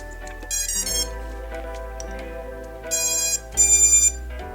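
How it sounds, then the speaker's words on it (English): Startup tones from a drone's 4-in-1 ESC: a series of short electronic beeps in stepped pitches, with a louder burst of tones near the end, over a faint hum. "see if we get an ESC startup sound this time"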